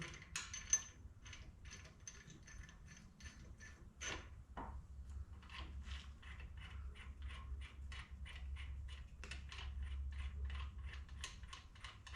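Ratchet spinning bolts into a Dana 30 axle, rapid clicking pawl bursts in short runs, close but quiet over a low background hum, no talking.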